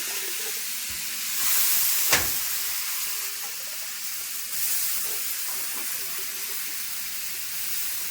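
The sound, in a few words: potatoes frying in hot oil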